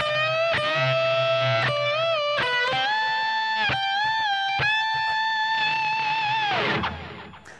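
Distorted electric guitar plays the opening phrase of a solo, with sustained bent notes and quick note changes ringing loud and close, heavy with effects, before the last note cuts off and fades.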